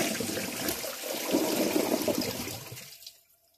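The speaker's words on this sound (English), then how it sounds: "Here is a flush." A Project Source Pro toilet with original parts apart from a replaced fill valve and seat flushes in a loud, rushing surge of water that swirls and drains, then cuts off abruptly into near silence.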